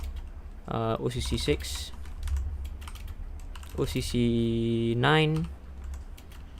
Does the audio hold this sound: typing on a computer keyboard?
yes